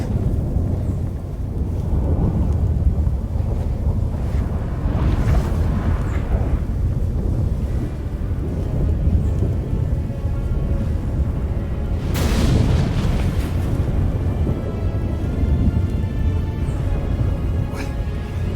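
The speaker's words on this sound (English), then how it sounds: "That a storm?" A sudden storm erupts in The Witcher 3 as the gate between worlds opens: a sustained low roar of wind and rumbling thunder, with heavy booming surges around the middle and a big crack of thunder later on, loud and continuous.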